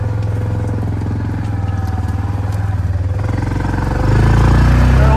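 An off-road vehicle engine idles steadily on a dirt trail, a close, loud, low rumbling throb with a regular pulse that swells slightly near the end, with no talking over it.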